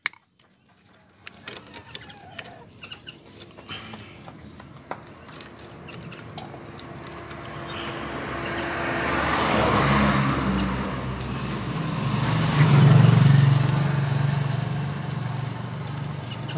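A Loncin Terminator 200 custom motorcycle cranks on its starter with light rattling clicks, then the engine swells into a rising, steady rumble nearby, peaking and settling toward the end.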